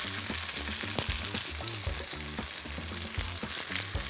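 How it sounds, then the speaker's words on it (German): Smoked tofu frying in about a tablespoon of rapeseed oil, a loud, even hiss of sizzling close by, with faint stirring knocks and no speech. "Der Räuchertofu, der wird angebraten mit etwas Rapsöl, ungefähr 1 Esslöffel."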